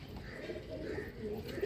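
Pigeons coo softly on a rooftop, a low murmuring call repeating faintly through steady outdoor background noise.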